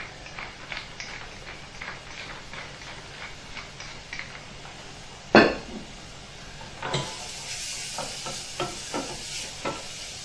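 Finely chopped onion sweats lightly in a pan for pan-fried lamb steaks, giving a soft, steady sizzle with faint stirring ticks and one sharp clatter midway, no talk over it.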